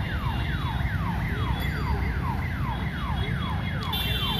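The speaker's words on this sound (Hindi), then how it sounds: "अभी जो हॉर्न बज रहा है ना, इसका मतलब और एक ट्रेन उधर से आने वाला है।" Repeated falling two-tone horn blasts at a railway crossing near Gopal Nagar station, sounding loudly and steadily over a constant low rumble of nearby traffic.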